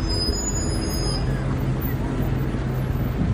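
A bus passing in busy city traffic near Westminster, London, a steady low engine drone under the general street noise and distant murmur of a crowd.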